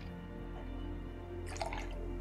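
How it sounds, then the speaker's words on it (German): A drink being poured from a bottle, a soft liquid trickle and gurgle over a low steady hum, with a brief splashy burst near the end. "Wir gießen uns ja erstmal fix was zu trinken hin."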